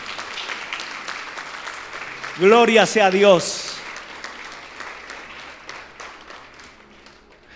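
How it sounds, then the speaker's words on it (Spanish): Congregation applauding in a church during a sermon, a steady wash of clapping running throughout, with a loud voice crying out briefly in the middle over it. "¿Cuánto le pueden dar un aplauso a Dios por esta palabra?"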